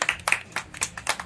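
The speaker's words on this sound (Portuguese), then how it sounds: "Palmas pra Tati." A small group claps for Tati as she comes up to show her children's drawings, a short burst of roughly half a dozen loose, close claps.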